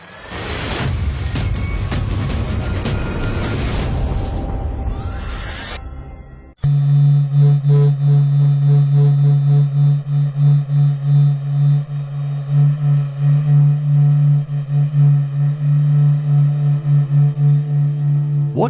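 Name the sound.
Sun's heartbeat, solar oscillation data from NASA SOHO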